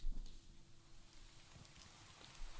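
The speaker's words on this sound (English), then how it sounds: "in the middle of your walk, it starts to rain" Rain begins falling during a walk in the video game Do NOT take this cat home, a steady soft patter of drops on a surface that stays faint and even throughout, with no voices.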